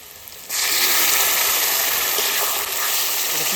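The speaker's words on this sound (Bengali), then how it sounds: "পেঁয়াজ দিয়ে আলু ভাজা হয়ে গেছে এবার আমি মশলা দিয়ে দেবো" Loud, steady sizzling hiss of potatoes and onions frying in a pan, starting abruptly after a quieter half-second and continuing without talk.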